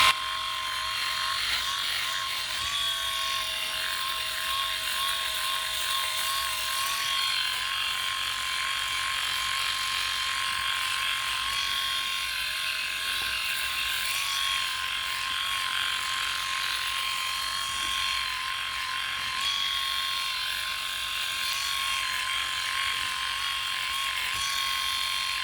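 A Philips i9000 electric shaver runs over coarse facial hair, giving a steady buzzing hum with a faint crackle of cut whiskers, close and alone.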